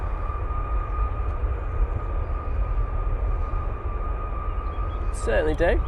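A jet aircraft engine is run up in an engine test bay at Manchester Airport, giving a steady, loud roar with sustained tonal whines throughout, and a person speaks briefly near the end.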